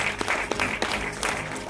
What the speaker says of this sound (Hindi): लेडीज एंड जेंटलमैन, जोरदार तालियां बजाएं प्लीज